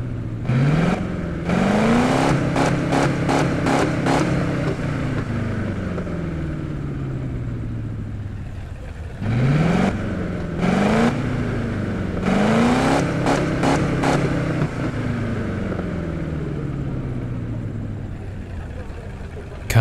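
A 1932 Ford engine in a racing video game revs sharply several times in quick bursts, rising and falling between stretches of low idling, repeated in clusters.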